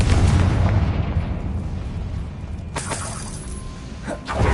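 Confringo, a blasting spell in Hogwarts Legacy, detonates with a loud close boom that opens with a crackling burst and rumbles away, followed by a sharp shattering crash and a few brief pops.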